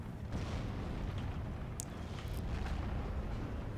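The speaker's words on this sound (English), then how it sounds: "82mm mortar fire" 82mm mortar fire in Steel Division 2, a dense rumbling barrage of distant booms and thuds under a continuous low battlefield roar, with a few sharper cracks standing out.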